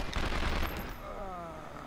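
Gunfire in the PlayStation 2 game 24: The Game, a burst of loud, dense shots in the first half that gives way to a quieter stretch with a fading ringing tone.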